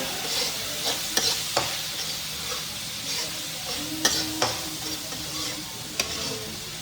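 Spices with turmeric sizzle and fry in a pan while being stirred, steady close frying hiss with occasional sharp clinks of a spoon against the pan, no talking over it.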